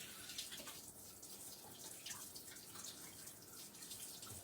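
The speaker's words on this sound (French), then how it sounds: "je vais rincer ma cuillère parce que je l'ai léchée" A spoon is rinsed under a running kitchen tap while a cream dessert is being made, giving a faint, steady trickle and splash of water with no talking.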